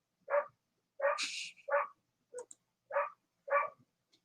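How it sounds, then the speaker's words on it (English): A dog's barking is played by Google Assistant, a short run of quiet, clipped barks spaced about half a second apart, with a couple of faint higher yips in between, against silence. "Hey Google, bark like a dog. This is a dog."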